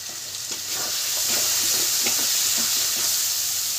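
Cumin seeds dropped into hot oil while cooking chicken kosha, a loud, close, steady sizzle with a hissing wash and light stirring taps, swelling after the first half second and holding without talk.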